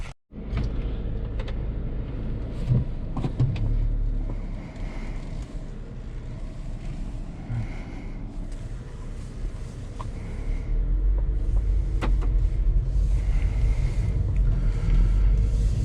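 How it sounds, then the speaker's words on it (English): A 2022 Haval Jolion subcompact crossover on the move, heard from inside the cabin as a steady, loud low road-and-engine rumble with broadband tyre and wind noise that swells toward the end, with no talking. "So now driving the Jolion."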